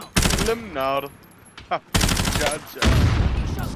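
Rapid automatic gunfire in the online shooter Call of Duty Warzone, loud bursts of close shots separated by brief pauses, with a player's voice talking over parts of the action.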